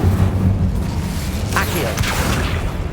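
A fire spell cast in the Hogwarts Legacy video game, a short whooshing burst of flame rising over a rumbling low game soundscape, with a voice heard in the clip.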